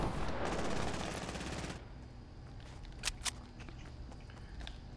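Rapid assault rifle fire from a video game, a dense loud burst of shots for the first couple of seconds, then quieter game ambience with two sharp isolated cracks.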